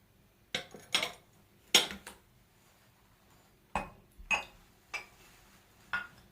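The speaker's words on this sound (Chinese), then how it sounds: "我们再找一个盘子装颜色" A plate for holding paint colours handled during a Chinese ink painting lesson, a series of sharp ceramic clinks and taps at irregular intervals, close and clear against a quiet background.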